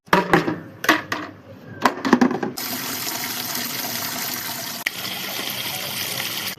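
Water poured from a bucket into plant pots: a few short splashes first, then a long steady gushing pour that continues for several seconds, close and fairly loud with no talk.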